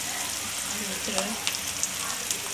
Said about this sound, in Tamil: கொஞ்ச நேரம் ஃப்ரை ஆகட்டும்